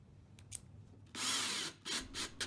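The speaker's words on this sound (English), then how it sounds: "pre-drill a couple holes to get the screws through right" Power drill boring pilot holes for screws in wood, heard as a few short bursts of whirring and grinding, close and loud, with brief pauses and light handling noise between them.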